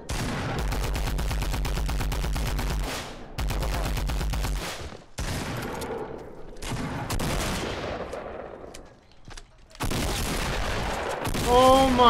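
Rapid bursts of Fortnite gunfire hammer away in long automatic strings, broken by short gaps and single loud blasts, with a player shouting over the shooting near the end.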